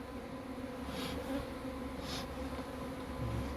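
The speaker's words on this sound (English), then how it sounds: "You can see there's one yellow bee in all that cluster" Honeybees at a new beehive give off a dense, continuous buzzing hum, close and steady throughout with no voices.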